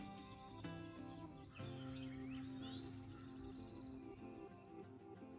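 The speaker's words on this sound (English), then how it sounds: "All the birds are rejoicing" Birds sing and chirp outdoors on a foggy early morning at a farmhouse, with a steady chorus of calls at moderate distance over a constant background hum.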